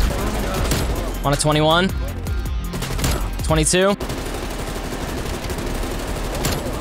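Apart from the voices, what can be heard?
sentry guns and gunfire in Black Ops Cold War video game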